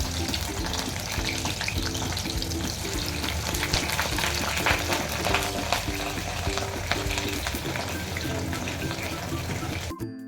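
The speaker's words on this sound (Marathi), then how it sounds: "तेल गरम झालं की आई भेंडी फ्राय करून काढणार आहे" Okra sliding into hot oil in a home kitchen for a yogurt-okra dish, giving a steady, even frying sizzle with clinking stirring throughout, close and continuous, ending abruptly.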